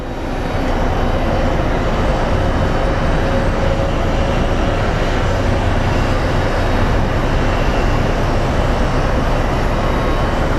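A jet airplane taxiing at Phoenix Sky Harbor International Airport gives off a loud, steady engine roar that holds level throughout, broadband and continuous with no pauses.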